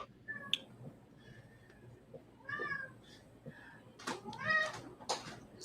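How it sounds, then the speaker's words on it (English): A foster cat meows several times nearby, short rising cries spaced across a quiet room with a longer, more insistent call near the end. "Sorry, I'm fostering a cat."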